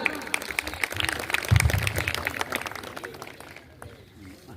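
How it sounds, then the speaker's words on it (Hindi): A crowd claps for a poet at a humorous mushaira held during a government school function, steady applause lasting several seconds before easing off, with some background voices. "आप सबकी भरपूर तालियों में"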